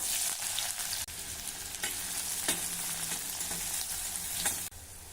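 Mustard seeds, cumin and onion fry in hot oil for a sesame dish, a fairly quiet, continuous crackling sizzle close at hand, broken by a few sharp stirring scrapes and brief dips.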